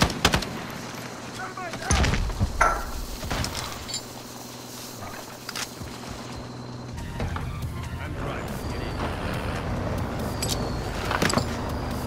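A truck in Call of Duty Warzone rumbles steadily throughout, with a low engine drone and occasional clunks and door-like knocks, voices faintly underneath.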